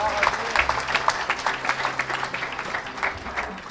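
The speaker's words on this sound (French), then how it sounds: "Acclamez pour Jésus." Applause at a church service, many hands clapping steadily and fairly loud throughout, with a crowd murmuring and a voice or two faintly underneath.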